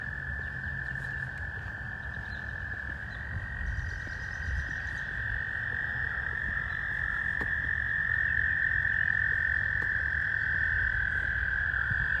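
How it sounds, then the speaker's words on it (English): A dense, continuous chorus of frogs croaking and trilling from a pond in a flooded area, steady and loud throughout with no voices. "It must be frogs in that water."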